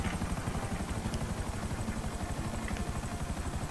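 Steady rapid thudding of helicopter rotor blades in the video game GTA 5, a continuous pulsing chop with a low engine hum, moderately loud and unbroken.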